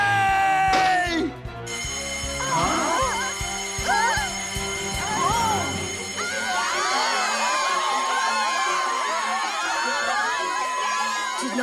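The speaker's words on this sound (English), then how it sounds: "Nagasawa pushed the emergency button" A cartoon emergency alarm bell rings loudly and continuously at a school science lab, under a noisy crowd of children shouting and cheering.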